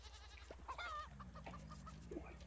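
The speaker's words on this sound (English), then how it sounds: "Chicken." A chicken in the survival game Raft clucks in a short run of close, bright calls over a steady low hum.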